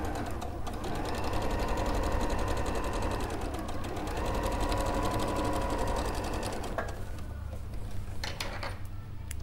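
A sewing machine runs steadily as it stitches a tote bag, a dense continuous mechanical whirr that holds nearly level throughout and eases slightly near the end, with no talk over it.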